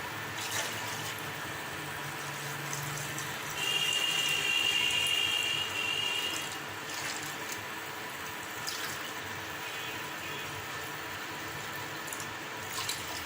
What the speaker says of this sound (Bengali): চার কাপ পরিমাণ আমি পানি দিয়ে দিচ্ছি।